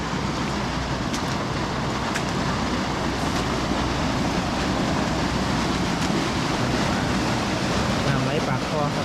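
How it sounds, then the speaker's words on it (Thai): Rapid water rushes at the mouth of a channel during a storm's first floodwater, a steady broad roar with wind buffeting the microphone, continuous and fairly close, without talk. "น้ำไหลปากคอครับ"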